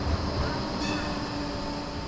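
A Basel tram gives a steady interior rumble with a faint high whine and tonal hum, continuous and close, without any speech.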